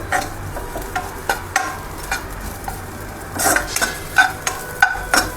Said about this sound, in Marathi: भगरीला तूप कमी लागतं